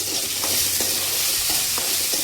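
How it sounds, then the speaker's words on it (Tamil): Onions sizzle and fry steadily in a pan with occasional stirring scrapes, continuous and fairly loud, no voices. "அதனால தான் நான் இது கூட வெங்காயம் போட்டு சேர்த்து வதக்குறேன்"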